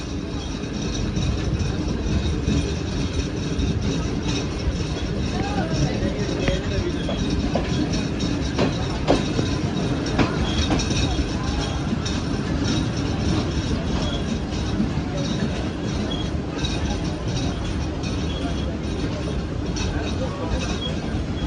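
The 28DN Shalimar Express passenger train runs on rails between Lahore and Karachi with a steady, loud rumble and faint clicking wheel noise that continue throughout, heard from on board.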